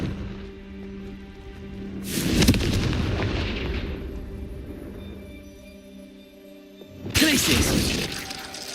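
Two crackling, shattering blasts of the Confringo fire spell in Hogwarts Legacy erupt loudly over a droning game ambience, with spoken voices and a sustained rumble between them.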